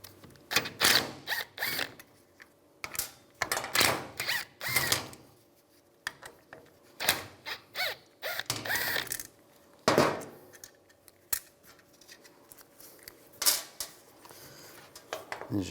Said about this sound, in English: On the back side, we need to take these screws out. Use a T30 socket. Take the screws out.